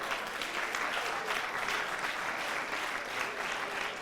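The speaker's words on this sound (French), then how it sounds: "On applaudit une fois encore pour Margaret." A studio audience on an a cappella television singing contest applauds steadily and loudly, a continuous even wash of clapping without speech.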